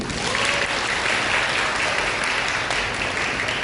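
Wedding guests give a steady, dense round of applause at a ceremony before an unaccompanied congratulatory song, the clapping loud and continuous throughout.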